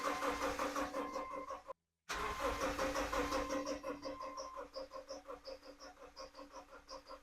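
A rod-knocked Subaru engine turns over and runs steadily, a continuous mid-pitched engine drone with regular rhythmic pulsing, a brief dropout partway through, then a steady patter of repeating clicks or knocks over the running engine.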